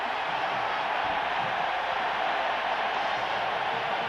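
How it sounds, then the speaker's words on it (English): College football stadium crowd roaring during Michigan vs Colorado in 1997: a steady, dense wash of massed crowd noise that holds at an even level throughout with no distinct voices standing out. "So the crowd roars."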